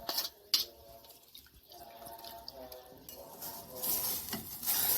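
Stir-roasted home-raised chicken goes into a pot of soup made from boiled chicken bones for nam ngiao, with clinks, splashes and scraping stirring sounds close by, growing busier and louder toward the end.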